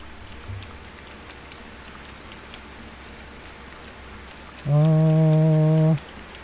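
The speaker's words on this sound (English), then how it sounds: "The rain effect is super cool, though." Rain falls in the video game Sengoku Dynasty, a steady even hiss of drops throughout, with a loud sustained horn-like tone cutting in for about a second near the end.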